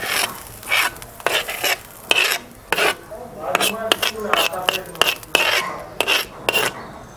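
Fried onions being scraped and transferred out of a pan into a vessel, with repeated metallic clinks and scraping strokes of a utensil against cookware, close and fairly loud, no talking.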